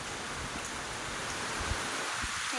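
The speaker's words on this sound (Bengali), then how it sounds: "কত জোরে বৃষ্টি পড়ছে" A continuous hiss of rain falls steadily, fairly faint, with a few soft thumps underneath and no voices.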